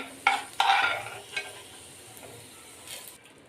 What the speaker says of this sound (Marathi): आपण ज्या वाटण भाजतो ना ते जास्त भाजायचं नाही आहे